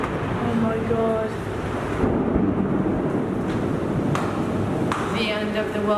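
A storm blows outside a high-rise floor in Kuala Lumpur, with strong gusting wind roaring continuously and a deep rumble beneath, while people speak briefly at the start and near the end.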